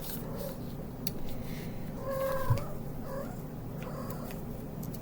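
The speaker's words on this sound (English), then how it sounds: "My cats are very animated with you." Short meow-like calls from a seven-week-old kitten or its mother near a window, a tonal cry around two to two and a half seconds and a fainter one just after, over a steady noisy background.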